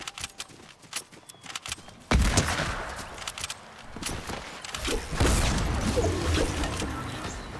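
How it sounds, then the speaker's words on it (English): Gunfire in a Fortnite Zero Build ranked Reload squads match: scattered shots that turn into a dense, loud burst of rapid fire and crashing impacts, continuing in layered volleys at close range with no talking. "Wait, we heard shots."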